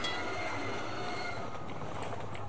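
A train from the game Cosmonaut rolls past as a steady, dense rumble with a faint metallic squeal, loud and continuous for the whole stretch with no talk.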